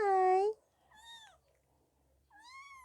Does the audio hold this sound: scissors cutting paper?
no